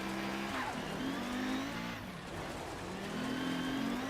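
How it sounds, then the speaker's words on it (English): Five-cylinder Audi Quattro Group B rally car in a racing video game, engine revving and rising in pitch, then easing off and climbing again, a roaring drone at moderate volume with no voices. "I don't know why 5 cylinders just sound so good"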